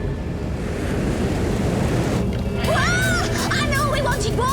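Cartoon flood of rushing water and crashing waves, a loud continuous surging roar that swells midway, with excited character voices and squeals breaking in over it toward the end.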